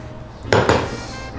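Carbonara is mixed in a pan with a utensil, giving two quick, close metallic clanks against the pan over a quiet background.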